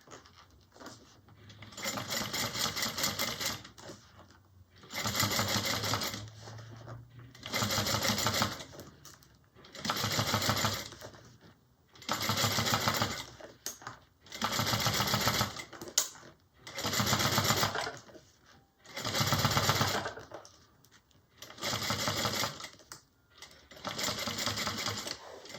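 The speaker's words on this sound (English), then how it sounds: "now we're going to go ahead and top stitch" A sewing machine top stitches a bag in about nine rhythmic bursts of fast mechanical whirring, separated by brief pauses, close and clear.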